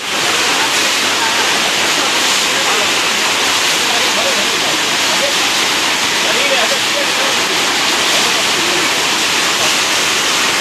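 Rain and overflowing sewer water rushing through flooded streets in Delhi, a loud, dense and unbroken roar of flowing water that holds steady throughout.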